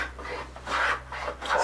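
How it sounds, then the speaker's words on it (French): A few rhythmic rasping strokes of a hand plane shaving across wood, close up, with no talking. "j'en profite pour passer un petit coup de rabot"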